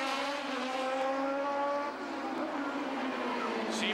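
Toyota Atlantic race cars power-slide out of a 180 hairpin at the Trois-Rivières street race in 1993, a loud continuous engine whine with steady harmonic tones, slightly dipping before holding on.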